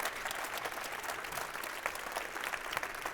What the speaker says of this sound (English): just a massive round of applause for everyone